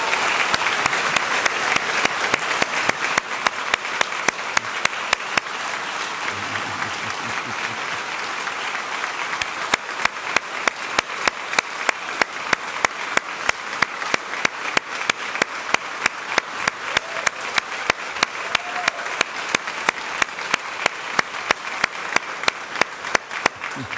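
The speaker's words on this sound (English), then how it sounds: "Will you please stand so we can give you the applause?" A large audience at Ohio's 2024 State of the State address applauds steadily and loudly for a long stretch, a dense wash of clapping with sharp individual claps standing out.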